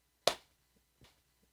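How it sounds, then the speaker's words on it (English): A single sharp hand clap in a quiet room, followed by a second, softer clap about three-quarters of a second later. "You have to wait for when I'm going to clap."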